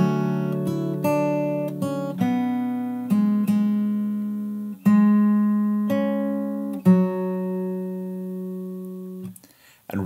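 Fingerstyle guitar plays the verse of a song, a slow run of clearly separated plucked notes ringing over a sustained low bass, loud and close, with no voice.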